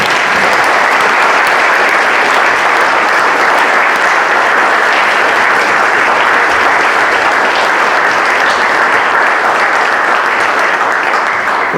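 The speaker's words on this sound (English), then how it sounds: "let's just give Clifton another round of applause for that 40 years of work" A conference audience at a peatland event gives a long, loud, sustained round of applause, dense and even, lasting over ten seconds with no talk.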